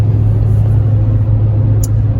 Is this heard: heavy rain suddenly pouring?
no